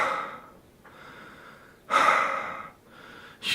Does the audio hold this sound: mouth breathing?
yes